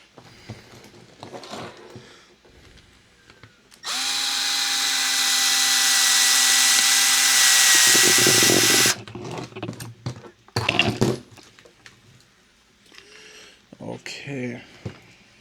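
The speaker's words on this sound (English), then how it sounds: "Let's again take our drill." Cordless power drill drives a screw into a Traxxas Mini Slash RC truck, a steady high whine of about five seconds that drops in pitch as the screw seats, followed by clicks and handling noises with quiet talk.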